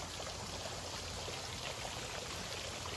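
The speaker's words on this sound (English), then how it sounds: "We'll go show them the waterfall." A waterfall pours steadily outdoors, a dense, even rush of falling water that holds at the same level throughout with no voices.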